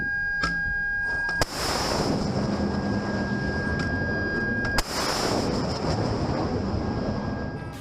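A RIM-116 rolling airframe missile fires from a navy amphibious ship with two sharp launch blasts, each followed by a loud, sustained roaring rush that fills the space and tails off.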